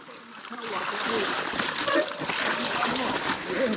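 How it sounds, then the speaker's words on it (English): An electric mountain bike, a Commencal Meta Power SX, rides through a river, churning up continuous splashing and sloshing water close by for several seconds. "And now we're in a river."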